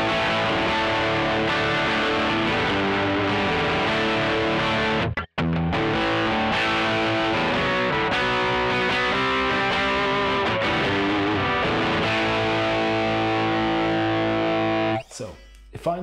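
Electric guitar played through the second amp model on a Line 6 HX Effects unit, giving a distorted, sustained chordal tone that rings steadily, briefly cuts out once, then fades near the end.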